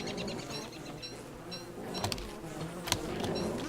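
Bees buzz in the survival video game Don't Starve: Reign of Giants, a steady insect drone with a few brief sharper game effects layered over it, moderately loud and continuous throughout.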